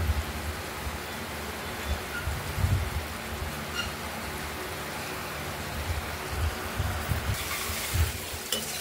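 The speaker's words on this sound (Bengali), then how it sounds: "এখনো তো তেল বেরোয়নি, যতক্ষণ না বেরোচ্ছে ততক্ষণ কষানো হবে।" Masala sautéing in oil in a pan for a paneer-fritter and potato curry, a steady low sizzle and bubbling with soft stirring scrapes throughout, close and even, no voices.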